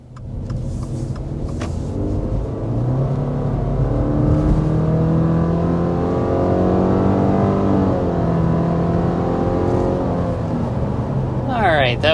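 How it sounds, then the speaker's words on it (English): A 2026 Subaru Forester accelerates hard toward 60 mph, engine note climbing steadily through rising tones with a brief shift dip, heard from inside the cabin as a continuous droning roar. "But first we need to go ahead and start with a hard acceleration."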